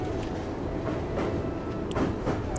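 A train runs along a railway line in Mizoram with a steady rumble, faint clicks and rattles, close and continuous, and no voices.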